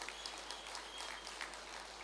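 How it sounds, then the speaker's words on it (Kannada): Faint, distant applause from an audience at a gratitude gathering rolls on evenly as a soft, continuous patter with a few slightly louder swells. "ಇನ್ನೊಮ್ಮೆ ಅವರಿಗೆ ಚಪ್ಪಾಳೆ ಕೊಡಬೇಕು"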